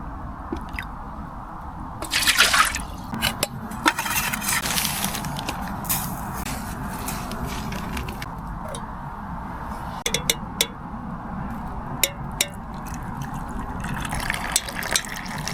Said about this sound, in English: I'm gonna get this rinsed and then get some water boiled for a cup of tea.